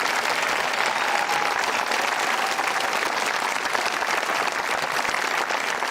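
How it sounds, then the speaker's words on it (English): Steady, dense applause from a high school graduation ceremony audience as each graduate's name is called, sustained and fairly loud throughout with no talking over it. "Please feel free to applaud each student as they are named."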